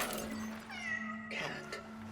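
A cat in the video game Cronos: The New Dawn lets out two close meows, a drawn-out wavering cry followed by a shorter second call, over a quiet steady game hum.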